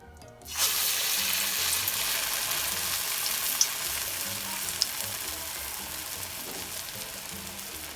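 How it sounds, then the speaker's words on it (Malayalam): Urad dal fritters (uzhunnu vada) drop into hot oil and set off a sudden loud sizzle that continues as steady, close bubbling frying, with a couple of small sharp pops and no voices. "ഇത് നമുക്ക് ചൂടായ എണ്ണയിലേക്ക് ഇട്ട് കൊടുക്കണം."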